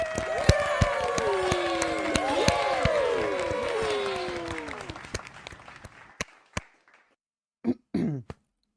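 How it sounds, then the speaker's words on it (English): A studio audience applauds the crew and host of a gaming podcast, a dense wash of clapping and some cheering that fades out over several seconds, then gives way to a few isolated claps and brief bursts of voices near the end. "Let's give another round of applause to the crew and our host today."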